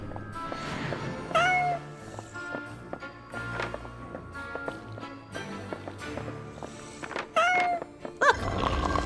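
A cat meows in the video game Goblin Cleanup, a few short rising mews over game music and light footstep-like clip-clop, moderately close.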